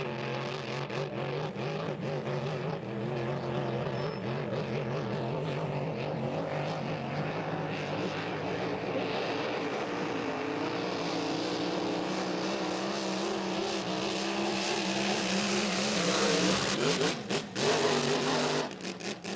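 A vintage hydroplane racing boat, the Miss Saint-Félicien Vintage, runs its engine at a Saint-Félicien race with a steady, moderately distant droning whir that swells briefly near the end, no voices.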